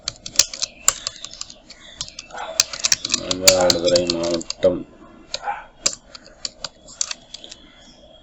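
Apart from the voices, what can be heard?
typing on a computer keyboard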